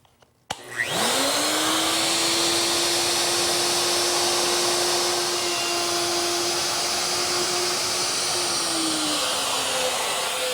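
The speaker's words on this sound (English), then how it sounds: "Now, using the router and a guide fence," Wood router cutting dovetail sockets with a straight bit along a straight edge, spinning up abruptly and then holding a loud, steady high whine for about ten seconds with no talk.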